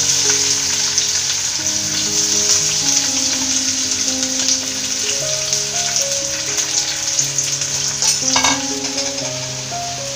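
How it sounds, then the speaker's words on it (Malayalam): Loud, continuous sizzling of onions deep frying in hot oil, with soft music playing underneath. "ഈ സവാളയെ നമുക്ക് ഒന്ന് ഡീപ്പ് ഫ്രൈ ചെയ്തെടുക്കാം"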